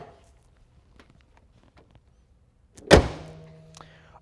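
The hood of a 2014 Nissan 370Z coupe slams shut with one sharp, loud thud and a short ringing decay, after a few faint scattered clicks and shuffles.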